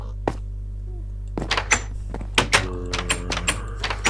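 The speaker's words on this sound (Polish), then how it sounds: "Głupie drzwi." A heavy door in a video game thuds once, then a run of sharp knocks, clunks and rattling impacts follows over a constant low hum, close and punchy.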